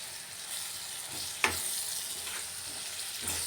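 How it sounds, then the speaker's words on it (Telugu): Cumin seeds and garlic cloves sizzle steadily in a hot pan while being fried for carrot and beetroot chutney, with a couple of sharp stirring scrapes and pops over the close, continuous crackle. "ఇది మంచిగా ఫ్రై అయిన తర్వాత దీనిలో ఒక స్పూన్ జీలకర్ర వెల్లుల్లి రెబ్బలు వేసి"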